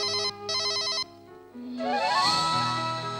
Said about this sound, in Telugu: ఫోన్ లేపట్లేదురా